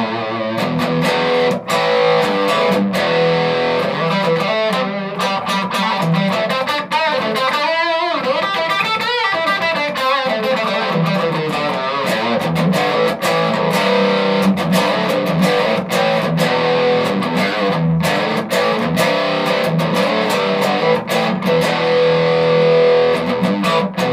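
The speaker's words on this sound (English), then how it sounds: "TC Electronics, Dark Matter Distortion." Electric guitar through a TC Electronic Dark Matter distortion pedal plays loud, heavily overdriven rock riffs and chords in a continuous, dense stream, with sharp strummed attacks and sustained saturated tones throughout.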